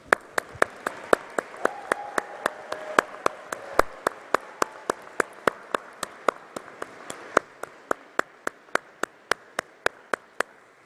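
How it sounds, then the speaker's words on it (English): Graduates at a university graduation ceremony clapping for their families, friends and staff, heard as a fairly quiet, sparse run of separate sharp claps at a steady, regular pace, nearby and distinct, over a soft hall hiss. "I would like the graduates to stand and applaud your family and your friends and your staff."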